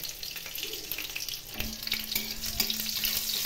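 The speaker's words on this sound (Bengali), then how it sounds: "কালো জিরা কাঁচা লঙ্কা ভাজা হয়ে গেছে," Nigella seeds and green chilli fry in oil in a pan, a steady close sizzle with scattered clinks and stirring, no talk.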